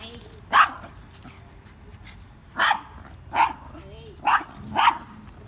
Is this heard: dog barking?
yes